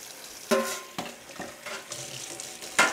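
Dishes washed by hand with a soapy scourer, several close scrubbing strokes and clinks of crockery with wet scraping between them.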